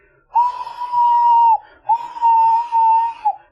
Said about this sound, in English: One day, Thomas heard an engine whistling.